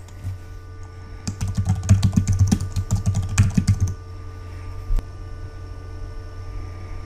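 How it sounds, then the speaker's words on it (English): Keys on a computer keyboard clatter in a quick burst of close taps lasting a few seconds over a low electrical hum, then one last isolated click after a pause. "Next, paste the password that was auto-generated."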